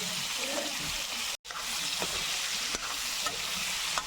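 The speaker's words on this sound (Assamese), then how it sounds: "পিঁয়াজখিনি দি দিব লাগে পিঁয়াজখিনি অলপ সিজিব দিব লাগিব" Onions sizzle steadily in a pan for a Gahori pork dish cooked without oil, with close stirring scrapes over the constant frying hiss and one brief dropout.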